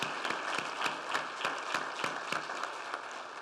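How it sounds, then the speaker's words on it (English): An audience applauding at a police fallen officers tribute in a church, a dense, steady wash of many hands clapping, fairly close and continuous throughout. "Can we give the Didymos a round of applause"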